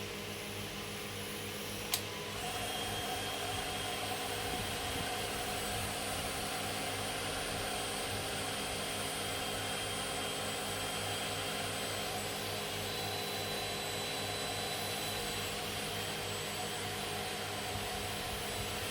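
A heat gun shrinks heat-shrink tubing over wiring aboard a sailboat, a steady loud blowing roar with a constant whine starting after a brief click and running unbroken to the end.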